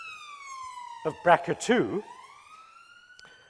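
A vehicle siren wails outside a lecture hall window, a long rising and falling electronic tone that holds throughout while a lecturer speaks briefly over it in the middle.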